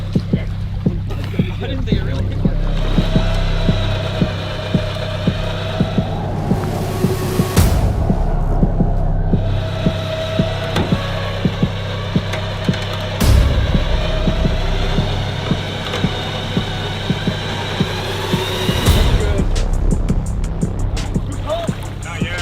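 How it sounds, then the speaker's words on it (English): Winches run steadily to raise a sunken Pavati boat from 95 feet of water: a continuous low mechanical throb and hum with rhythmic pulsing, with bursts of louder activity and voices talking intermittently over it. "Run those winches."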